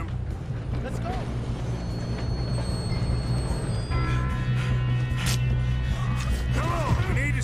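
A moving train rumbles steadily in Red Dead Redemption 2, with a continuous low mechanical drone and faint wheel squeal beneath game dialogue.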